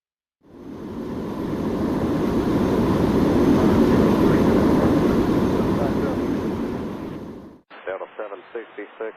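A Boeing 787 airliner takes off in the Airline Commander flight game. A loud, broad jet roar swells and holds for several seconds, then cuts off abruptly before a voice speaks.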